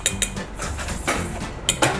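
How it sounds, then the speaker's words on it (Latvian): Ingredients are whisked and mixed in a bowl, giving quick, busy metallic clinks and scraping that run on steadily, with sharper knocks now and then, close by and with no talking. "Tu visu samaisam kārtīgi."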